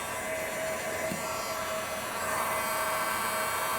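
A heat gun blowing hot air to heat window tint and remove a crease during installation, a steady close whirring hiss with a faint tonal hum, no talk.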